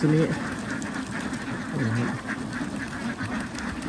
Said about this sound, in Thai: แกกำลังนับเป็ดนับรังเป็ดอยู่